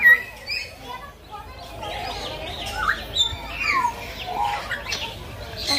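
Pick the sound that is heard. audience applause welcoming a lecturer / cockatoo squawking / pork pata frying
cockatoo squawking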